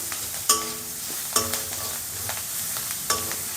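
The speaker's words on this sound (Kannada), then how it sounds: "ಇದೆಲ್ಲ ಕೂಡ ನೀಟಾಗಿ ಎಣ್ಣೆಯಲ್ಲಿ ಫ್ರೈ ಆಗಬೇಕು" Grated carrot frying in oil in a pan, a steady bright sizzle with a few sharp spatula clinks and scrapes against the metal at irregular intervals, close and clear, no voices.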